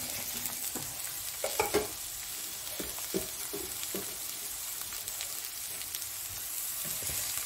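Onion and vegetables frying in a pan for vegetable poha, a soft continuous sizzle with occasional light clinks and taps of a spoon stirring.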